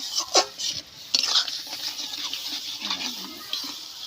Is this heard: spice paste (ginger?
yes